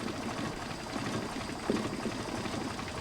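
A Mercedes 190SL engine fitted with Solex PHH44 carburetors idles very slowly at about 300 RPM, producing a low, steady, even chugging rumble at moderate distance with no talking.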